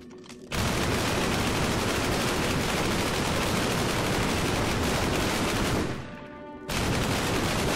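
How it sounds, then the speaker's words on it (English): MG42 machine gun in Hour of Victory firing one long, loud, continuous burst for several seconds. It breaks off briefly near the end, then starts again. "Jump on the MG42 and just blow them away"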